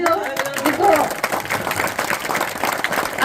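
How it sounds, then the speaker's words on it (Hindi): An audience at a religious jubilee celebration breaks into steady applause, dense overlapping clapping with crowd murmur filling the space. "और एक बार जोरदार ताली हमारी माँ के लिए बचा दीजिए"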